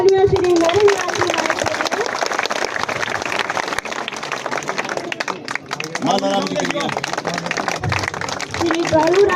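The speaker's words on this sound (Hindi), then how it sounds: "एक बार जोरदार तालियां" A crowd claps loudly and steadily throughout at a village welcome for a retired BSF soldier, with chatter and a voice over a loudspeaker mixed in.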